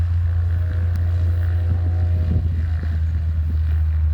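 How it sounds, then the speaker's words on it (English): A biplane engine revs at an airshow while the plane sits ready for takeoff, a loud, steady propeller drone with a strong low hum that holds constant and close throughout. "Well, he's raising his engine,"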